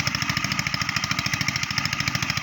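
Deep well irrigation water pump engine runs steadily in a field, a loud, close, rapid rhythmic chugging with no pauses.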